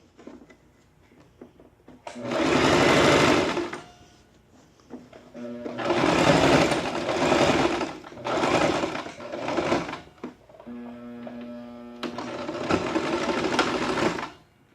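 A sewing machine stitching a draped jacket at the shoulder and back neck, running in four loud bursts of steady whirring separated by short pauses, with no one talking.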